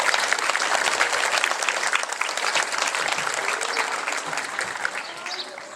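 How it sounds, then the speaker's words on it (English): Crowd applause at an outdoor Memorial Day service after a parade, with steady dense clapping from many people that holds for several seconds and then gradually tapers off. "give them a round of applause"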